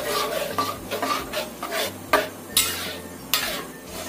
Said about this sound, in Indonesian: Ini kita aduk terus ya,